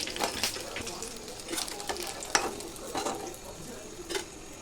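Lote fish pakoras frying in hot oil, a low crackling sizzle with a few sharper clinks and stirs over about five seconds, fairly quiet and steady.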